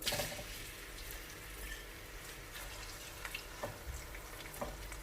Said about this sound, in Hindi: ये देखिएगा फ्रेंड्स, ऑयल गरम करने के लिए रखा है। प्याज डालेंगे हम इसमें।